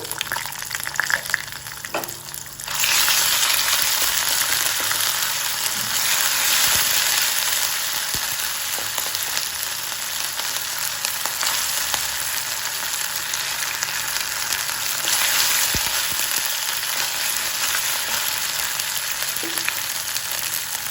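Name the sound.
ginger garlic paste frying with bitter gourd in a pan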